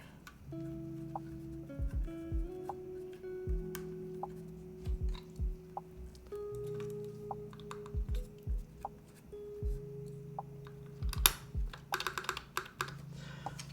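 Freshly built mechanical keyboard being typed on in uneven bursts of clacky keystrokes with pauses between, close and fairly loud, with occasional heavier thocks that suggest the spacebar; no voices.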